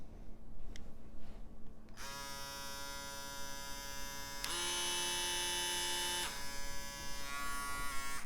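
An Andis ReSurge electric foil shaver buzzes close up, starting after a quiet moment, its steady whine shifting slightly in pitch as it moves.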